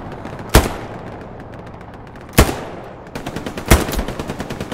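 Machine gun fire in a multiplayer shooter game, three sharp loud bursts spaced apart over rattling background gunfire, the last stretch filled with rapid repeated shots.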